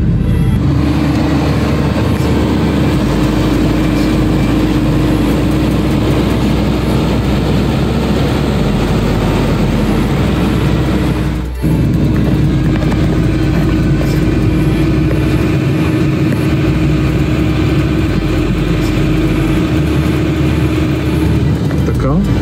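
An Audi A6 2.0 or 3.0 TDI diesel runs at raised revs during the heating phase of a DPF regeneration, parked in P with the handbrake on. It gives a steady, close droning hum with one brief dip partway through.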